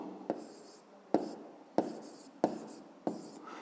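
A pen writes on paper during a math lesson, with five distinct tapping strokes each trailing into a soft scratch, close and quiet.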